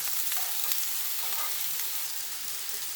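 Eggplant sizzles in a frying pan while being stirred, a steady soft crackle of oil with a few faint scraping touches, close and fairly quiet.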